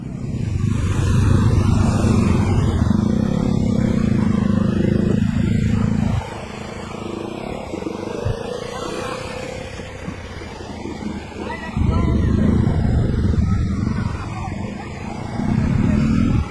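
A motorcycle crossing a small river on a Bangladeshi ride, engine droning loudly and steadily, easing off in the middle before surging again, with water and wind noise throughout.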